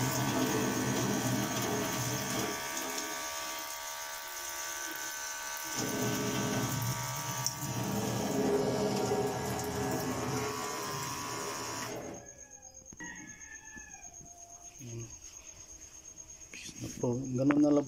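A portable automatic water bottle dispenser pump runs steadily with a buzzing motor hum for about twelve seconds, then stops, leaving faint clicks and handling noises nearby.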